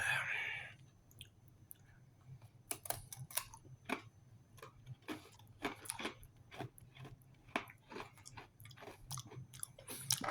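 A cereal biscuit from a French RCIR ration breakfast menu is chewed close up, giving a steady run of crisp, crunchy bites and jaw clicks that repeat irregularly over a quiet background.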